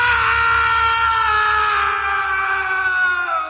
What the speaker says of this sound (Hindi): राघव चीखने लगा